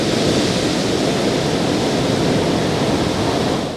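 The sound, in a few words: ocean waves on the coast of St. Vincent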